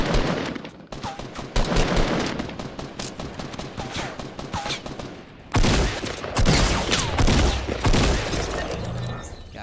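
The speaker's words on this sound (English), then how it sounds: "They're probably shooting at us from over there." Gunfire in Fortnite Battle Royale during a squads match: rapid overlapping bursts of shots, loud and continuous, with a brief lull before heavier firing resumes.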